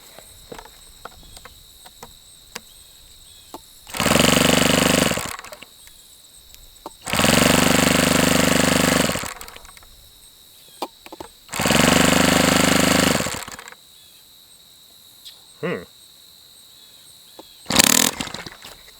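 YS 120-AC model engine on a diagnostic run, firing up in three loud sustained bursts of a few seconds each, separated by quiet gaps with faint clicks, then a short final blip.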